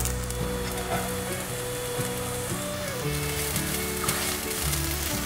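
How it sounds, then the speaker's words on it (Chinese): Shredded carrot and shiitake mushrooms stir-fry in oil in a wok, giving a loud, dense sizzle that holds steady throughout, with soft scraping and tossing sounds from the spatula mixed in and no voices. "快速的翻炒，炒至红萝卜变色"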